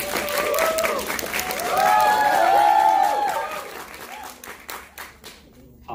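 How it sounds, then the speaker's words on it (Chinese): An audience at an insurance seminar claps to welcome a speaker, a dense, loud burst of applause that builds, holds, then thins into scattered claps, with a tonal sound rising briefly in the middle. "掌声欢迎他。"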